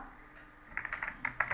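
Quick bursts of typing on a computer keyboard, soft near clicks that start faint and then come in a brisk irregular run of sharper keystrokes.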